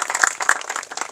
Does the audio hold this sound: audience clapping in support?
yes